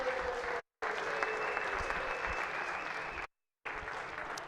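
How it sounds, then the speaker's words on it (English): Steady applause fills a state Senate chamber during a floor session, a sustained even wash of clapping broken by two brief dropouts, moderately distant. "If you can give him a round of applause."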